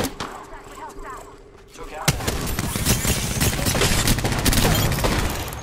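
Automatic weapon fire in the Apex Legends game rattles in a dense, loud stream after a quieter opening, with a player's voice mixed in.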